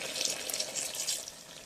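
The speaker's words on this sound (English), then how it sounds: "So I'm going to add in my water." Chicken stock left from steaming the chicken pours in a steady, splashing stream into a pot of stew, a brief close hiss of liquid with no voices.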